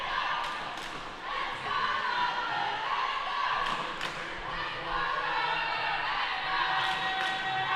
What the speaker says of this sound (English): Cheer squad kicking in.